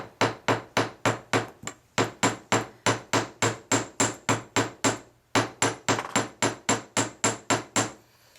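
Steady hammering on wire being flattened for wire-wrapped bead earrings: about two dozen sharp metallic strikes in a quick even rhythm, close and clear, with one brief pause midway and no talking.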